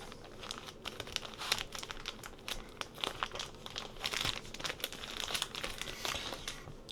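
Thin plastic packaging crinkling and rustling steadily while a DJI Osmo 360 camera is unboxed, with a continuous close texture of crackles and small crunches and no talking.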